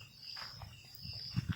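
A brief stretch of crickets trilling in the dark at a farm yard, a faint steady high buzz with a couple of soft low knocks close by.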